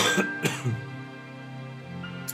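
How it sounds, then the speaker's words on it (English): A man with a heavy cold clears his throat and coughs in a few short, close bursts at the start, followed by a quiet stretch of room tone. "Forgive my coughing, I'm getting over a really heavy cold"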